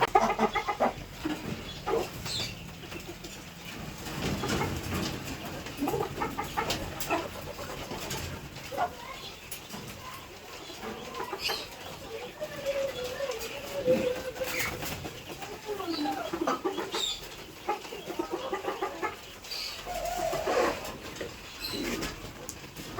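Large chickens cluck repeatedly close by in a farm setting, with scattered bird calls and occasional faint talk underneath throughout.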